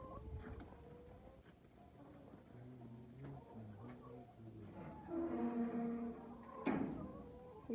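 Chickens cluck softly at a village homestead in Namibia, with a few scattered low calls nearby over a quiet outdoor background and a brief sharp knock.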